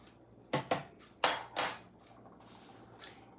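A utensil stirring self-rising flour and rapid yeast in a bowl: four sharp clinks and knocks close by, then quieter scraping taps fading out.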